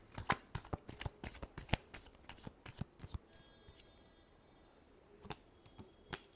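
Tarot cards being shuffled by hand close up, with a rapid run of crisp riffling slaps for about three seconds, a short quieter stretch, then a few more separate card snaps.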